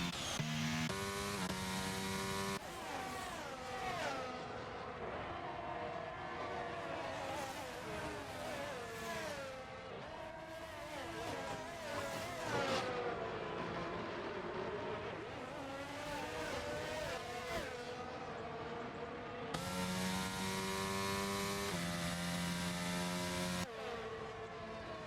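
Race cars in the F1 22 video game at the Miami circuit roar continuously, engines rising and falling through gear shifts as several cars pass, loud and sustained for the whole stretch.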